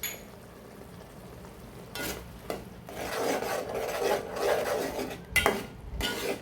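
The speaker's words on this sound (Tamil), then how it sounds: "2 பவுடரையும் சேர்த்து நல்லா பச்சை வாசனை போகிற அளவுக்கு" Chili powder and a second spice powder sautéed in a pan for a Tamil fish curry, with a soft scraping and stirring rasp that grows louder in short bursts of rubbing against the pan.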